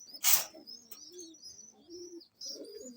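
Flyer pigeons kept for sale coo in low, close murmurs after one sharp flap or clatter, the soft calls repeating in short phrases with no talking.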